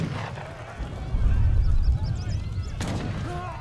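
Cannons fire amid a battle in the real-time strategy game Age of Empires III, heavy booming blasts rolling under continuous commentary with smaller game effects scattered through.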